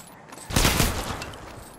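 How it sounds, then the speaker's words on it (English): A short burst of gunfire in the mobile battle royale Apex Legends Mobile, a loud sharp blast of shots peaking briefly before fading into background game noise. "Shots fired at me."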